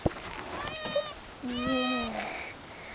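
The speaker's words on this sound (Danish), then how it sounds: "Men der var min kat, der hedder Chili." A house cat meows at home: a few short, rising meows, then a longer drawn-out call, all fairly soft and close by.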